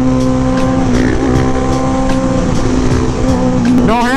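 A car sliding on throttle alone without a handbrake, with a loud, sustained revving engine and tire squeal running the whole time, close and dominant, with the pitch rising sharply at the end.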